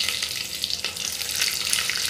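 Green chillies sizzle in hot oil in a pan while prawn rice is being made, a steady close crackling hiss that continues alone without a break.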